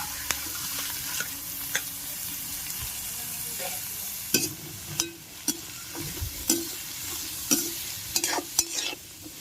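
Vegetables fry in ghee in a wok, a soft steady sizzle broken by repeated sharp scraping and clanking strokes of a spatula stirring them.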